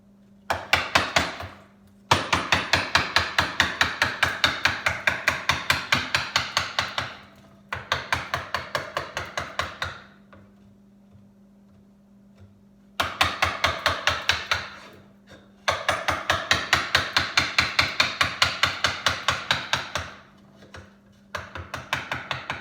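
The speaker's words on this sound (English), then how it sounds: "Using the mallet and chisel is that, you know, despite the fact that I can waste away a lot of wood pretty quickly here," A wooden mallet drives a chisel into a wood carving in a garage workshop, landing long runs of rapid, even knocks, near and loud, split by short quiet pauses.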